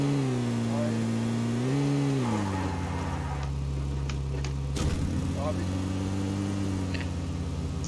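Car engine in the battle royale game PUBG on the Erangel map, a steady droning hum that shifts pitch as it revs and settles, running continuously under people talking.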